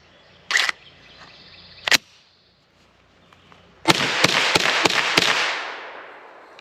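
Gunshots from a KelTec Sub2000 Gen3 9mm carbine fed from the factory magazine: two separate sharp cracks, a pause, then a quick string of five shots with a long ringing echo trailing off.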